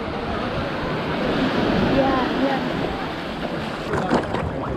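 Kayak paddling on open water, with a continuous wash of water and wind noise, soft paddle splashes, and faint voices in the background.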